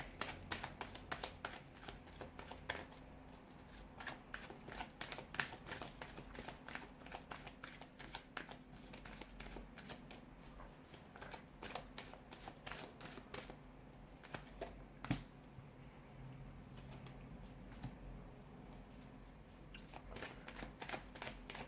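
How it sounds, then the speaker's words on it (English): Soft, continuous riffling and tapping of tarot cards being shuffled, quiet and close, going on steadily with brief pauses. "let's go ahead and give the cards a shuffle"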